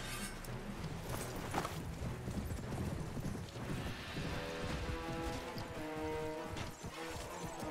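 Rapid horse hoofbeats clatter continuously against a dense, busy background of Mount & Blade Warband game sounds, steady and loud with no pauses.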